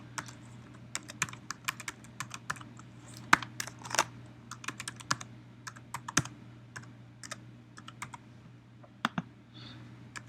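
Computer keyboard keys tapped while a password is entered to sign in, a run of sharp, irregular clicks at close range over a steady low hum, with no talking.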